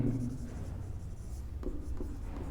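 Pen scratches across paper while accounting terms are written out, soft close strokes with a couple of sharper taps, heard under someone talking.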